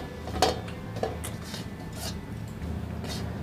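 Rice being served onto a plate with utensils: a couple of sharp clinks early on, followed by soft scrapes and rubbing, heard close up in a quiet room with no voices.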